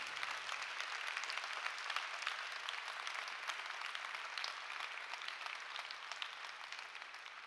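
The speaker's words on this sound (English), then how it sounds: "Big applause to you for being here today" Faint, steady applause from an audience at an online European cooperation event, even clapping that continues unbroken and sounds distant.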